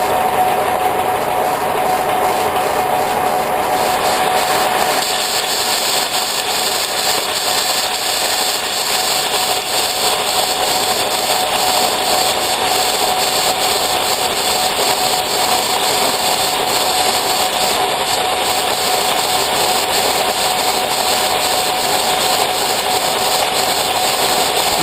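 A machine cuts a spline with a loud, continuous whining grind and steady mechanical drone, close and unchanging for the whole stretch.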